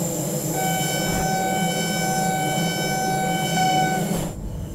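Horn of a train in the Train Sim World 2 game on the Tharandter Rampe route, one long sustained multi-tone blast for about four seconds over low rolling train rumble, then cut off.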